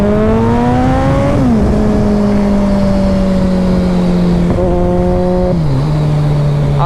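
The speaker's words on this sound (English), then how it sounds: "This bike is extremely fast." A Kawasaki Ninja ZX-14R motorcycle accelerates hard and loud, the engine whine climbing through revs, dropping at gear shifts and pulling again, close and alone.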